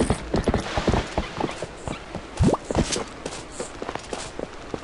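Horse hooves clip-clop steadily on the ground in the video game Twilight Princess, a brisk close rhythm of hoof strikes with no talk.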